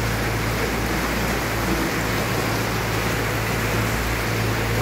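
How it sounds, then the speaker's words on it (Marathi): Torrential monsoon rain pours down heavily, a dense, constant roaring hiss that fills the whole clip, loud and close with a low steady rumble beneath and no voices. "एकदम मुसळधार पाऊस चालू झालाय जोराने."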